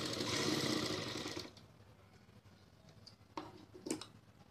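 Sewing machine stitching a double seam on a salwar, running loud and steady for about a second and a half, then stopping, followed by a few faint handling clicks and rustles.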